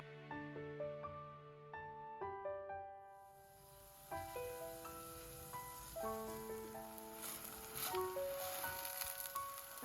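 Steady crackling sizzle of banana-pandan coconut batter frying in hot oil, rising after a few seconds, with soft melodic music playing throughout.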